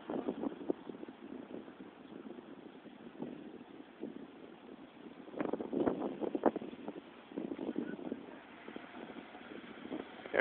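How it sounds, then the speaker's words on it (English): Gusty wind buffets the microphone outdoors on a windy day near a tornado siren in Oklahoma City, rising and falling in uneven rumbling bursts that swell strongly around the middle before easing again. "It's a windy day too."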